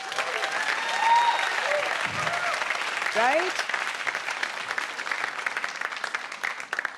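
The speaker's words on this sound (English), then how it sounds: "let's have like a round of applause just for ourselves" An audience at a women's event gives itself a round of applause, a sustained, even wash of clapping heard from across the hall, with a few spoken words and brief voices mixed in.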